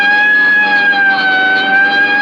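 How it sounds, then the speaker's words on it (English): A loud, steady police car siren holding a sustained wailing tone at close range, with no speech over it. "Right, I'll hit the siren."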